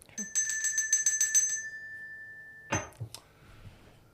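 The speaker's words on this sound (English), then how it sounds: "I just want to ring the bell." A hand bell rung indoors at a community gathering, a quick series of bright clangs lasting over a second and leaving a long ringing tone that fades, followed by rustling and faint room noise.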